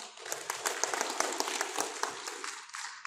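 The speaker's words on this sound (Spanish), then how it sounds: "Fuertes aplausos, hermanos." A gathered Aymara assembly claps for a newly elected moderator, a moderate crowd of hands with distinct individual slaps sounding through a steady patter, close and fairly loud for a few seconds.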